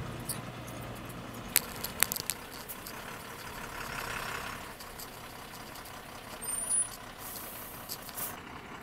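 Camper truck engine idling and rumbling as the vehicle manoeuvres out of a small puddle, with a few sharp clicks and a brief hiss near the end, steady and moderately close with no talk.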